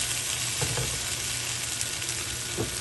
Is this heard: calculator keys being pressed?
no